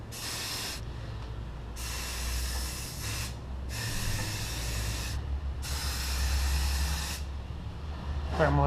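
Neverwet water-repellent coating sprayed onto boots in three long hissing bursts of a few seconds each, with short pauses between, close and steady, over a low rumbling background with no talk.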